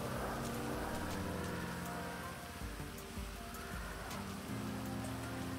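Steady rain falls continuously, a dense patter on a surface with a low rumbling hum underneath, fairly quiet and unbroken throughout.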